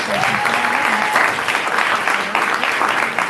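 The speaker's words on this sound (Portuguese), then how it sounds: "Uma salva de palmas para a Inês." Audience applause at a student plenary session, loud, dense clapping from a crowd filling the room for a few seconds, with faint voices and cheers mixed underneath.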